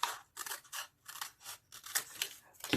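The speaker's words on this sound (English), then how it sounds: "So I'm just going to cut like that." Scissors snip through paper for a junk journal in a rapid series of short, close cuts, each one crisp and separate.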